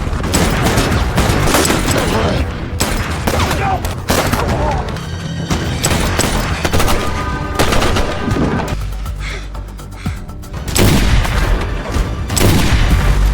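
Gunfire during an armed confrontation in a mafia action film, loud, dense bursts of shots and booming impacts layered over dramatic score, with a brief lull before the barrage resumes.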